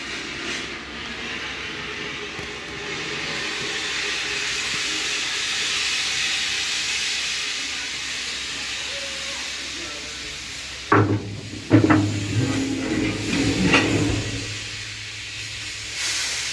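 Steam railway cars couple at the Age of Steam Roundhouse in Sugarcreek, Ohio, with knuckle couplers closing. A steady hiss gives way to a sudden metallic clank and a few following bangs and rattles.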